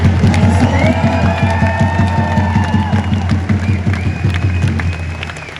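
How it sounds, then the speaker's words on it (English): A protest march crowd claps and cheers loudly and continuously, dense rhythmic applause with scattered shouts and whistles filling the whole stretch. "To give yourselves a round of applause for coming, despite what the government wanted us to do"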